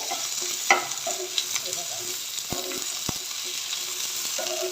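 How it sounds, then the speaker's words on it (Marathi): Okra sautéing in hot oil over a high flame, a steady close sizzle with occasional stirring scrapes and a few sharp knocks of the spoon against the pan. "आता हाय फ्लेमवरच अशी तेलात परतून घ्यायची आहे"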